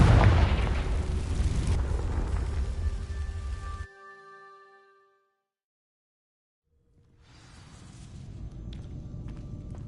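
A Confringo fire spell from Hogwarts Legacy bursts with a loud, broadband boom that rumbles and roars for a few seconds. It cuts off into near silence with a fading ring, then a crackling fire-like rumble swells back in.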